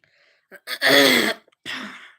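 A person coughs and clears their throat in a few rough, forceful bursts, close and loud, with short pauses in between and a final harsher cough.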